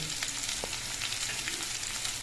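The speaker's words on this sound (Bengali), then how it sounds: "আমটা কিছুক্ষণ ভেজে নিতে হবে" Salted mango pieces frying in hot oil in a pan give a steady, bright sizzle that stays even throughout, close and moderately loud, with no talking.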